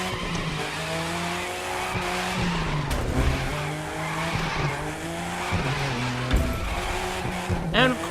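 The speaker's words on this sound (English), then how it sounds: "this is a more difficult drifting car to use" Tires of a drift car in The Crew 2 racing game skid and squeal continuously over a steady engine drone, with repeated screeches rising and falling as the car slides through corners, a voice talking over it.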